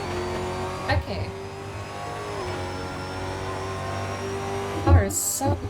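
Steady engine drone from a car in the racing game Assetto Corsa, a continuous harmonic hum with shifting pitch, and a person talks over it with brief louder bursts near the start and end.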